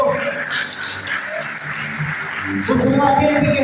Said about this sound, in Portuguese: Aplauda Ele, aplauda o Senhor